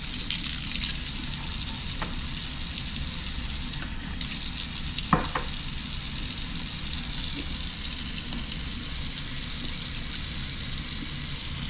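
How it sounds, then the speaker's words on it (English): A steady rushing hiss of cold water being poured, running throughout during thermostat testing for a Mercury Optimax outboard engine, with a faint clink midway. "But let's put a little cold water in."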